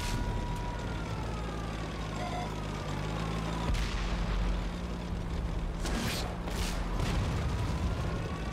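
Steady rumbling battle ambience from a T14 tank in World of Tanks on console, with a few sharp distant cannon-like blasts rising out of the continuous engine drone.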